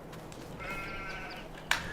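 Sheep on a winter farm in Farming Simulator 22 let out a drawn-out bleat, followed by a short sharp bleat near the end, over quiet background ambience.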